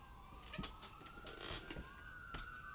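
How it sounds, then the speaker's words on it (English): Distant wailing ambulance sirens rise and fall steadily at low level, with faint background noise and occasional knocks nearby. "That's ambulances."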